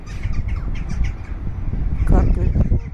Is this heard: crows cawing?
yes